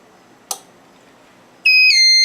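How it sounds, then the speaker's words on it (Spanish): A single click comes first, then a short pause, then an egg incubator's over-temperature alarm starts with loud, piercing, continuous electronic beeping that carries on to the end. "Entonces, por ende, va a sonar la alarma."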